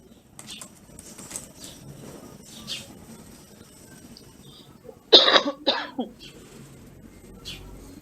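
A couple of sharp coughs break through a quiet room, close and brief, with faint birdsong and background noise around them.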